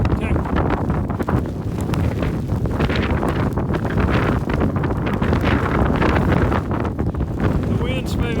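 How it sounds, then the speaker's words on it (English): Strong gusting wind of around 45 to 50 mph during a sleet storm on a mountain, a loud constant roar buffeting the microphone with rustling and flapping throughout. "The wind's maybe 45, 50 miles an hour right now."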